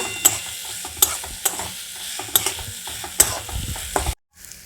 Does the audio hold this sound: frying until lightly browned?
yes